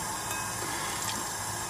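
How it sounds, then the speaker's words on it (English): Water runs into natural sausage casings sitting in a bowl while making smoked venison wieners, a continuous close gurgling and splashing fill with no pauses. "it's filling up the casing with water"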